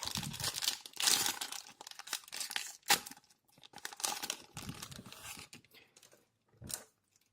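A Yu-Gi-Oh trading card booster pack torn open by hand, a string of crinkling, ripping foil bursts with short pauses between them and a final crisp tear, close and without speech.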